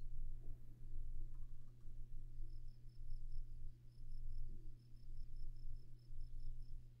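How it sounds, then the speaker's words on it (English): Night crickets in Kerbal Space Program chirp in faint, regular pulsing trills under a low, steady hum, quiet and distant with no voices. "Crickets?"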